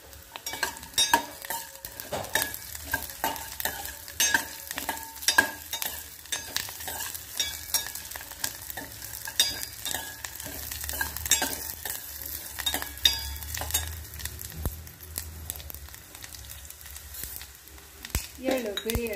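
Spices frying in a hot pan for kattin sambar, stirred and shaken steadily with a spoon scraping and clinking, a continuous close sizzle running throughout with soft intermittent talk.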